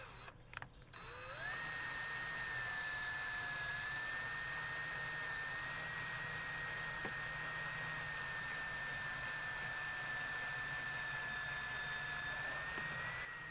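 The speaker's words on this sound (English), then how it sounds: "I'm letting the drill do the work so I don't pop through." A power drill whines steadily at high speed for several seconds after a brief start, drilling through an RV storage bay door, its pitch holding nearly constant and close by.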